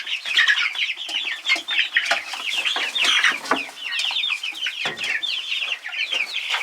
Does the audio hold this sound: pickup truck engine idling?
no